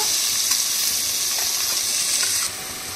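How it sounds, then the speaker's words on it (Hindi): Chopped onion drops into hot cumin in a pan and sizzles loudly and steadily close by, a dense hiss that softens slightly near the end. "जीरा भुन गया है अब हम डाल रहे हैं इसमें ये प्याज कटा हुआ"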